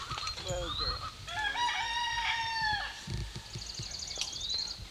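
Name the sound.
hen cackling and rooster crowing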